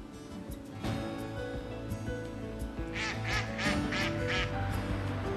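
Wild mallard ducks quack in a series of close, clear calls layered over a steady background of music.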